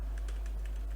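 Keys tapped on a computer keyboard during a Linux terminal session, a steady run of light clicks over a low constant hum, no voices.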